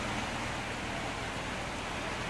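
Steady rain falls during a dust storm in Kuwait, a dense, even hiss without pause and no voices.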